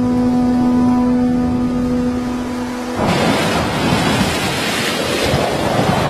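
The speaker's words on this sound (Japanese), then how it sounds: "風が強くなってきた" Strong wind gusts along a coast as a storm approaches, a loud continuous roar with surf rumbling beneath it, preceded by a few seconds of steady tonal hum before the noise swells.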